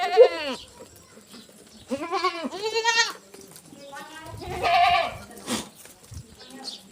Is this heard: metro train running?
no